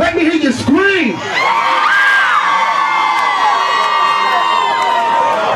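Crowd of women screaming at a hip hop concert in a club in Cleveland, Ohio: a loud, sustained mass of high-pitched shrieks and whoops right after a shouted voice, carrying on for several seconds.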